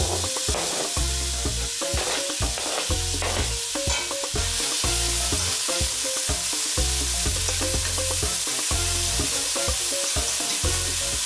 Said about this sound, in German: Dann kommen die Zwiebeln hinein und werden angeröstet.